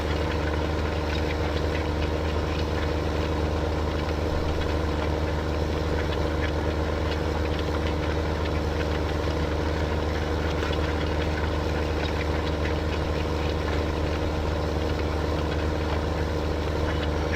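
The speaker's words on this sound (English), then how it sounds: "So as this tractor is finishing up this last row" A tractor engine in a farming video game drones steadily while pulling a planter, a loud, constant mid-pitched rumble that holds unchanged throughout with no voices.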